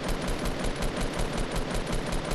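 Rapid automatic gunfire from the video game Fortnite, a dense continuous burst of closely spaced shots at steady volume throughout, with no talking.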